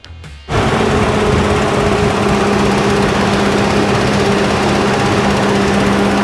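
After a brief start-up, a 1969 Ford Bronco engine runs steadily following a fuel pump repair, with a loud, close, continuous roar and a constant idle hum.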